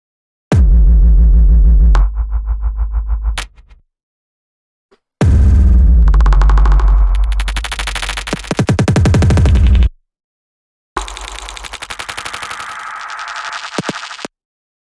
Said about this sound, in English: let's just take a random drum sound. Let's take that and like stretch it out a bunch.